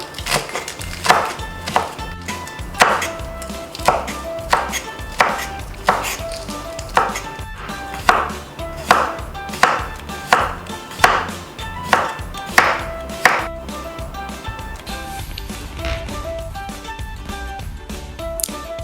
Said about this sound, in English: I had to like slice and cut them into the desired shape I wanted